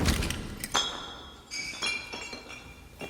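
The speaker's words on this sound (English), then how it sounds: "And even like the sounds of the glass and stuff, those overall ambient sounds really add a lot too." Glass clinks and chimes ring out in a handful of bright, separate strikes as ambient effects in a music video, each with a short ringing tail over a soft background.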